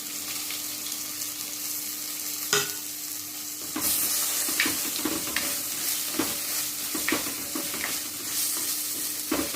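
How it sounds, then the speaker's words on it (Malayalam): Chopped tomato sautéed with onion, ginger and garlic in a pan sizzles steadily up close, with intermittent spatula scrapes and stirring knocks against the pan. "തക്കാളിയുടെ പച്ചമണം ഒന്ന് മാറണം, അതുവരെ വഴറ്റണം."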